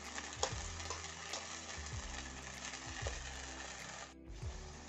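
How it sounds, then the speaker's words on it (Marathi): Peanuts with salt and turmeric stir-fry in a pan for a dhokla-style vegetable dish, a steady soft sizzle with repeated scraping strokes of a spoon, quiet and close with no talk. "आपण दाण्यांमध्ये थोडं मीठ टाकून घेऊया आणि हळद पण टाकू थोडीशी। छान असं परतून घ्यायचं"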